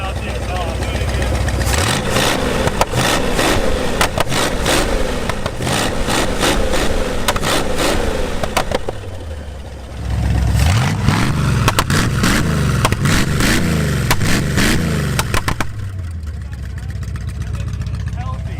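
A restored Ford muscle car engine, recently freed from a stuck valve, runs loud and close, surging through repeated revs with a brief dip midway, while people talk over it.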